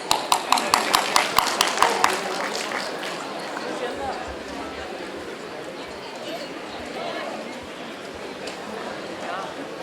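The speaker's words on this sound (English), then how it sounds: "Huge round of applause, please." Audience at a farewell bash applauding: a run of sharp, evenly spaced claps for the first two seconds, then a steady wash of crowd noise and clapping that continues to the end.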